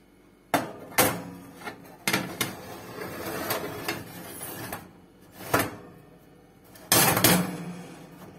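A tray of Ivan-chai (fireweed tea leaves) goes into an oven. Several sharp metallic clunks and thuds, close and uneven, include a louder pair of knocks at the end.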